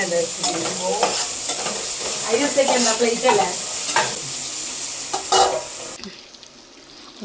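Food fries in a hot pan with a continuous loud sizzle while it is stirred and scraped repeatedly at close range; the sizzle drops away sharply near the end.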